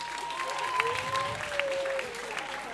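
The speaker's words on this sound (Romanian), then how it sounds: "Încă o dată un rând de aplauze!" Audience applause in a theatre at a dance contest, a steady, moderately distant wash of clapping with a faint sustained tone running through it.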